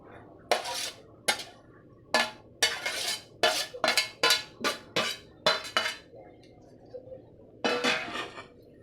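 Wet turmeric and chillies being combined in a large bowl for pickle, heard as a series of sharp, close clinks and scrapes of a spoon against the bowl, about a dozen strokes in an uneven rhythm with brief pauses.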